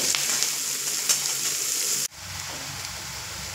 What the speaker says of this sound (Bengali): আর সঙ্গে দেব পরিমাণ মতো লবণ আর পরিমাণ মতো হলুদ দিয়ে পেঁয়াজটা খুব সুন্দর করে ভাজা করে নেব